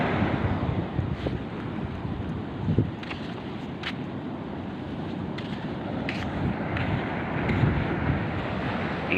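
Ocean waves wash and churn at a pier, a steady broadband rush mixed with gusting wind buffeting the microphone, with a few louder surges and faint clicks, no voices.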